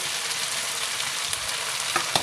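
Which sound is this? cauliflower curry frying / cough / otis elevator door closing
cauliflower curry frying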